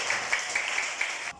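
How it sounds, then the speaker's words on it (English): Classroom applause for a student, a short burst of brisk, fairly close clapping from a small group that stops abruptly at the end. "Excellent. Clap him."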